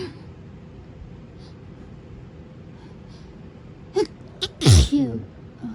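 A woman sneezes once loudly and close up near the end, with a couple of short sharp breaths or sniffs just before it, over quiet room hum.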